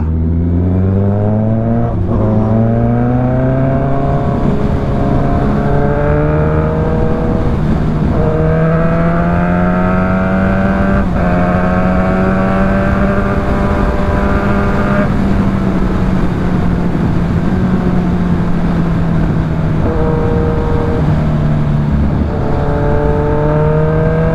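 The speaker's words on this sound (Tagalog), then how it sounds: "Ito yung halak niya oh. Pag mabagal yung takbo." A Kawasaki Z1000R motorcycle with a full exhaust drones continuously at low speed, its loud engine pitch rising and falling gently as it rumbles along nearby.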